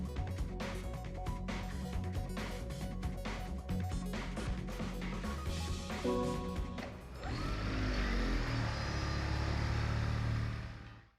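A Toyota Prius engine revving in the racing game Gran Turismo 6, starting with choppy, clattering bursts before settling into a sustained, steady drone that cuts off abruptly at the end.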